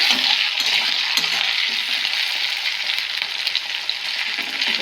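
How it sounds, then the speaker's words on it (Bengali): Onion, tomato and soybean fry in a pan with a loud, continuous sizzle close by. Occasional stirring scrapes cut through the steady hiss, and no one speaks. "টমেটো দিয়ে ভালো করে ভেজে নেব"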